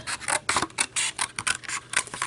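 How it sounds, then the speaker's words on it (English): Scissors snipping through felt close up, cutting along the edge of a handmade felt flower tag in a run of quick, crisp, repeated snips with no talking. "I'm just putting my scissors right up against the edge here, and I'm cutting"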